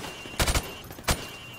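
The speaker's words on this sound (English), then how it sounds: "I want you to shoot the targets through the wood." Rifle shots fired through plywood in Call of Duty: Modern Warfare Remastered, with a quick burst of three sharp cracks followed by a single shot, loud and close over a quiet background.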